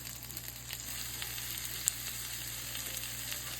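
Mixed vegetables, including squash and grape tomatoes, sauté in a pan with a continuous soft sizzle and a few faint stirring taps, heard close and alone.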